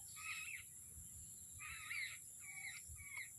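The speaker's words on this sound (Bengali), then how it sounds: "4টে পাখি একসঙ্গে খেলছে গাছের মধ্যে, আর কিচিরমিচির আওয়াজ করছে।" Four small birds chirp and squabble in a tree, with short bright calls in separate bursts, some harsh and caw-like, over faint background noise.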